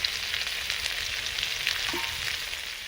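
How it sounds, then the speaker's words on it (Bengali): Pond prawns and onions fry in a pan, giving a steady, close hiss of sizzling oil with light crackles and a few stirring scrapes, no talking. "এর সঙ্গে চিংড়ি মাছ এবং পেঁয়াজ ভালো করে ভাজা হয়ে গেছে"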